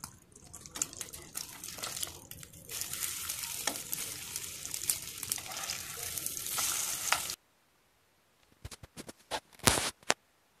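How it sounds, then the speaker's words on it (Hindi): Shami kebabs fry in a few tablespoons of oil in a pan, a steady close sizzle with stirring clatter for about seven seconds, then a quiet gap broken by a few sharp scraping knocks near the end. "यहाँ पर कबाब को जो है वो फ्राई करेंगे"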